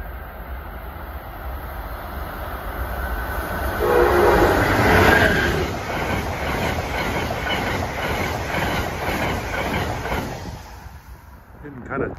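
Amtrak train 148, running Washington, D.C. to Springfield, Mass., passes close by at dusk with a swelling roar, a horn blast near the middle, and steady rolling wheel clatter that fades toward the end.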